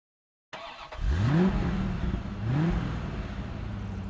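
A car engine in the PS1 game The Dukes of Hazzard II starts up and revs twice in rising sweeps, then settles into a steady mid-pitched drone, close and alone.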